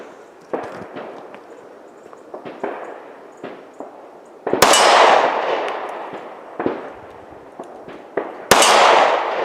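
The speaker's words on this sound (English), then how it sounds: "You can hear them hitting the metal." Rifle rounds strike a steel shipping container at a distance, giving sharp metallic clangs and cracks scattered irregularly, with two louder, noisier bursts standing out among the lighter impacts.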